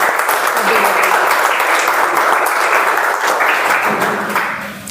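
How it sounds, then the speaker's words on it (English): Audience applause fills a Toastmasters meeting room, dense steady clapping held at full strength for about four seconds before easing off toward the end. "Can we have a round of applause for"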